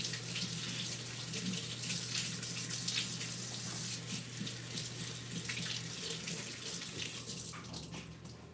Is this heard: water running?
yes